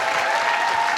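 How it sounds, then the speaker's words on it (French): Brief burst of dense audience applause for a television production team, many hands clapping steadily and evenly over about a second. "Je voudrais qu'on applaudisse toute l'équipe de Black Bloc."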